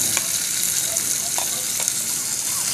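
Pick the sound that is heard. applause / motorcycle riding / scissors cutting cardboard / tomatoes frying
tomatoes frying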